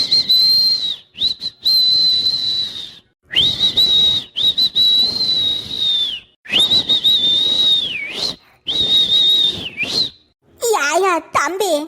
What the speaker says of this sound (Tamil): அதுக்கு யாயா 2 மணி நேரமா விசில் அடிச்சிட்டு இருக்கிய?